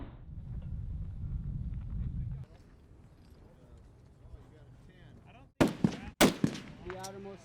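Rifle shots ring out at an NRA mid-range match at Camp Pendleton, with two sharp, loud cracks close together near the end, preceded by wind rumble and spoken talk.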